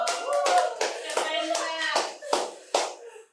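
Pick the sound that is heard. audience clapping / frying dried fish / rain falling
audience clapping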